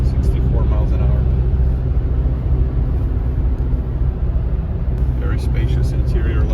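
A 2024 Toyota Tacoma SR with a manual transmission cruises in sixth gear at highway speed, giving a loud, steady cabin drone of road and engine noise throughout.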